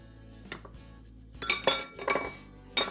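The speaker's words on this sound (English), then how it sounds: "Give that a good stir." A utensil stirs flours, cinnamon, salt, nutmeg and baking powder in a bowl, giving a few clinking, scraping strokes against the side, close and fairly quiet, with no voices.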